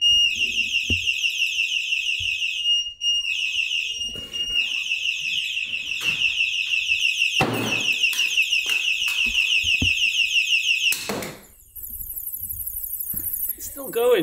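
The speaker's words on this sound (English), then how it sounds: "whilst the alarm siren bit, which is apparently 300 decibels, was going off" A cheap bicycle alarm siren ordered from Wish.com, advertised at 300 decibels, blares a loud, piercing electronic wail. The warbling tone runs continuously, broken by a few brief pauses and switching to a higher pitch near the end, while a person's voice is heard faintly.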